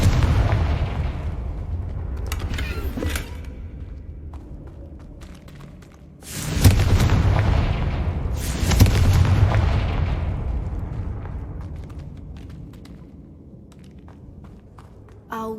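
A Confringo blasting spell explodes in the Hogwarts Legacy video game, giving two loud booming bursts that fade slowly through low rumbling echoes, with fainter thuds and clattering between them.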